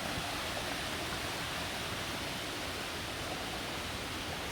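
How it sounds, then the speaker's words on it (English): Small creeks and waterfalls flow through the grounds of a Belize lodge, making a faint, even, continuous rushing wash of water with no voices. "Throughout the property, there's little creeks and waterfalls."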